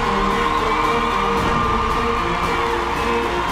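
A big crowd at the Royal Randwick horse races cheers and whoops steadily, a dense wash of voices rising in a continuous roar with scattered shouts, sustained and fairly loud throughout.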